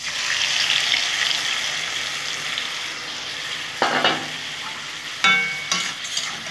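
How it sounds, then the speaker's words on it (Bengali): Small fried potatoes and cabbage sizzle with spices in a pan, a steady close frying hiss broken near the end by a few sharp scraping stirs of the spatula. "ভালো করে আমি বাঁধাকপিটা নাড়িয়ে নেব মশলাগুলোর সাথে।"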